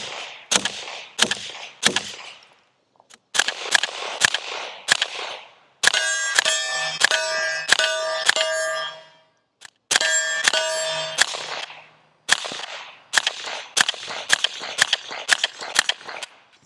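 Suppressed 9mm pistol-caliber carbine fired through an AnechoX 35 Compact suppressor, sharp cracks in quick strings and bursts with brief pauses and ringing metallic clatter between, close and crisp, no talking.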